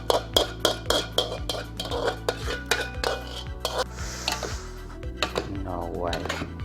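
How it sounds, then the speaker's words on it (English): Fried rice is stirred and scraped in a pan with a steady rhythm of sharp utensil clanks, close and loud, and someone speaks over it. "Okay, now mix the rice."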